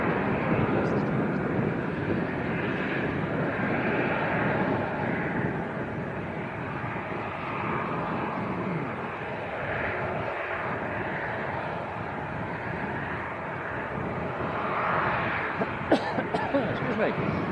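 A fixed-wing aircraft carrying Travis Scott at Leeds Bradford Airport gives a steady, loud engine roar that holds for the whole stretch, with wind buffeting the microphone.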